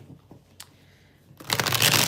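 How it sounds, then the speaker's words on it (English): Tarot cards are shuffled by hand, a few faint taps at first and then a dense, loud riffling burst of cards over the last stretch, with no voices. "let me just shuffle"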